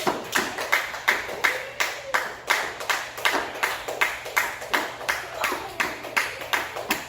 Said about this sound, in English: I'm going to clap with them.